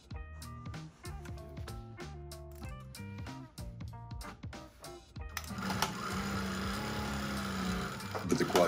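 A Juki DDL 8000A industrial sewing machine with a size 14 needle drives through eight layers of material in rapid, evenly spaced stitching bursts, then shifts into a denser, louder continuous run.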